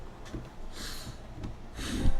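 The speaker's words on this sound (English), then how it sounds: "Had to blow my nose." Two forceful, breathy nose blows, close to the microphone, with a short pause between the bursts and no talking.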